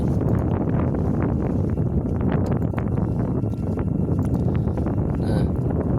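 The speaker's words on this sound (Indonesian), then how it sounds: "kita nikmati hembusan angin dan juga pemandangan Gunung Merapi Yogyakarta" Strong wind blasts across the mouth of the Merapi volcano crater in Yogyakarta, a loud, continuous buffeting roar battering the microphone with gusty rustling throughout.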